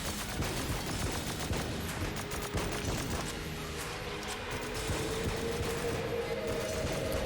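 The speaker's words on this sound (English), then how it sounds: "It's actually real cool that it fires explosive bolts" The strafe gun in Enter the Gungeon fires explosive bolts, sending a dense, continuous rattle of rapid shots and small blasts through the whole stretch, loud and busy, with no talking.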